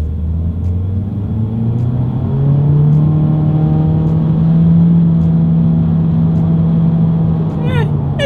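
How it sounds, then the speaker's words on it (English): A 2022 Honda Civic with automatic shifting accelerates hard down a straightaway, its engine note rising in a steady drone from inside the cabin, loud and continuous, with a brief faint mechanical rattle near the end. "let's see how quickly the new Civic here can get us up to speed without me doing the shifting"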